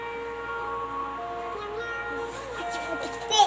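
A cat meows indoors, short mewing cries rising near the end, heard under people talking and a steady musical background.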